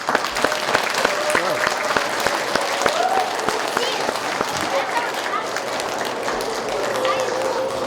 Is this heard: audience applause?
yes